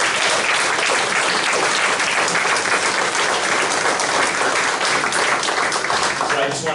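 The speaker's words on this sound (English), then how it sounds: "Can we give those students a round of applause?" An audience at a school district board meeting gives students a round of applause, a dense and steady wall of clapping that stays loud throughout with faint crowd noise mixed in.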